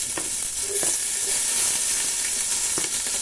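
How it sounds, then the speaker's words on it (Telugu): Green chillies frying for veg fried rice, a steady, loud, close sizzle and hiss of hot oil in a pan with a few light knocks of stirring. "ఒక 1 minute ఫ్రై చేయాలి"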